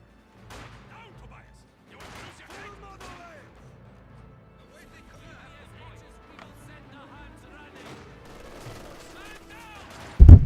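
Gunfire and grenade explosions in a Company of Heroes 2 match, faint bursts and pops running beneath a commentator's voice, ending in a sudden loud blast right at the close.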